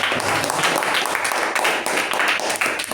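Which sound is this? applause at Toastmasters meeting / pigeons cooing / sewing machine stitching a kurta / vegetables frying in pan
applause at Toastmasters meeting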